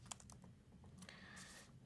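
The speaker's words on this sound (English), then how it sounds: "So let me type" Quick, light key clicks on a computer keyboard, typed in a short burst close by at low volume with no voices.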